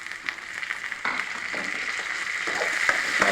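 Tomato frying in hot oil for a kuzhambu after onions have been sautéed, a steady close sizzle with light stirring scrapes throughout.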